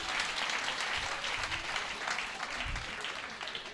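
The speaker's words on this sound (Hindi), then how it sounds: "एक बार तालियां बजाओ जोरदार।" An audience at a Hindi poetry gathering claps vigorously, a sustained, dense burst of applause filling the room for several seconds without any voices.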